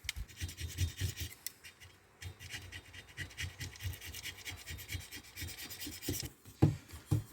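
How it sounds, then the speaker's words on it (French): A small utility knife blade scrapes old gasket material off a dirt bike engine's mating surface, giving a continuous close, gritty rasping and scratching in rapid uneven strokes, with a couple of sharper scuffs near the end and no talking. "vous nettoyez un maximum ce que vous pouvez enlever avec une petite lame de cutter"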